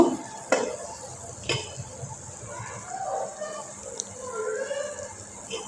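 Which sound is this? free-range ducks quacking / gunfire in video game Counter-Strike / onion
onion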